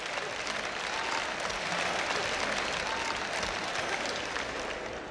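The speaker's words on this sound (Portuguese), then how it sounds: "Dê uma salva de palmas ao Senhor." A church congregation gives loud, sustained applause, a thick and continuous roar of many hands clapping that fills the room.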